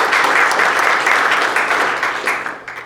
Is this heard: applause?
yes